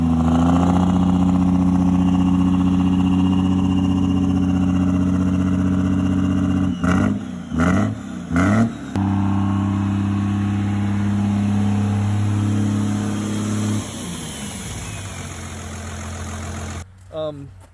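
A Cummins diesel truck engine cranks over and catches, then settles into a steady, loud idle with a slight misfire, a few rough stumbles early on, and a final shutdown.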